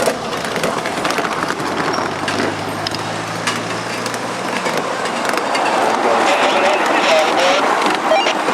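A miniature live steam train rumbles steadily along the rails at Railroad Park in Medford, Oregon, with rhythmic clicking and a brief whistle-like squeal, heard continuously and fairly close.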